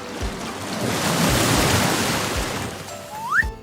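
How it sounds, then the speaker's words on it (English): A DIY slime squishy being filled with water, a steady rushing, splashing flow that runs loud and continuous for several seconds before easing off. "now it's time to fill it up with water, tie it off"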